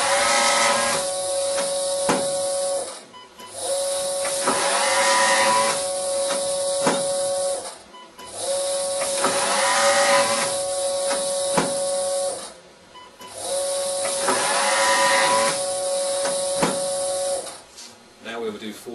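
Vacuumatic Tornado TCP1 high-speed banknote counting machine running four separate counts, each a loud steady whirring burst of about four seconds with a constant tone, split by short pauses, heard from a short distance.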